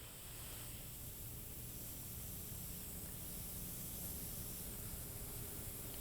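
An airbrush gun sprays blue colour onto a decorated cake through a stencil, a steady continuous hiss lasting throughout without pause, fairly faint and unbroken.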